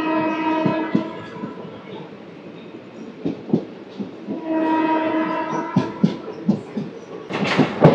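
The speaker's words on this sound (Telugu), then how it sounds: "పక్కనే Vasco D gamma Sainagar Shirdi train అయితే ఉంది." The Vasco da Gama–Sainagar Shirdi express runs alongside on the next track, a loud nearby train with rumbling wheels, rhythmic clickety-clack bursts and a horn-like sustained tone rising and falling.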